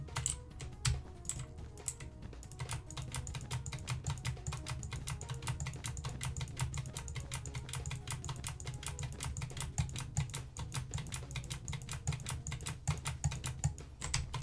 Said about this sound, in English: You're going to hear that button, the right click, and the shift.